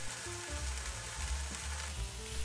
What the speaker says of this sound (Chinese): 蘑菇经过油煎上色